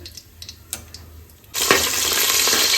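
Spices and kasuri methi (dried fenugreek leaves) hit a hot pan after a quiet moment, bursting into a loud, steady, close sizzle that holds to the end.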